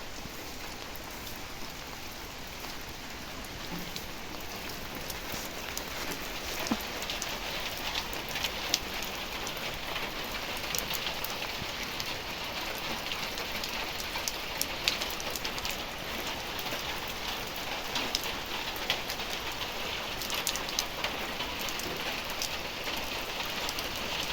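Steady rain falls continuously, a dense hiss of drops with occasional louder patters nearby, no voices.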